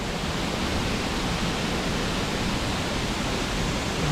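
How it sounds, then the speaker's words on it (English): A waterfall near Boquete, Panama pours in a steady, dense roar of rushing water that holds even and loud throughout, with no voices. "So this is waterfall number 2."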